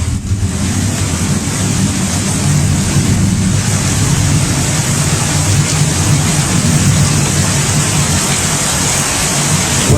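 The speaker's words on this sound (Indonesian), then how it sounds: "Nah, hujan." Steady, dense rain pours without let-up, a loud continuous hiss and roar with a low rumble beneath, no voices.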